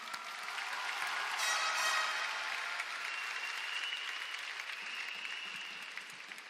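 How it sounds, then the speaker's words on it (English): Graduation ceremony audience at Mt. Juliet High School applauds in a broad, even wash of clapping that swells and then slowly eases, heard from a distance with a faint tonal ring over it. "Give yourselves all a big round of applause, everybody."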